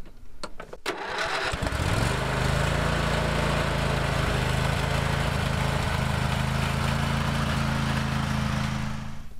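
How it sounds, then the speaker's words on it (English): A lawn tractor engine with fuel stabilizer in the tank starts after a few sputtering pops, then settles into a loud, steady close-up running drone for the rest of the clip. "Now that our tractor is full of fuel stabilizer, we need to let it run for 5 to 10 minutes"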